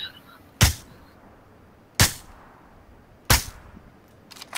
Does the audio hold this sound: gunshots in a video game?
yes